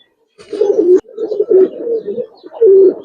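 Large pigeons, a pair on sale at a Bengali pigeon farm, giving several close, low throaty coos in short rolling bursts, with pauses between, no talk over them.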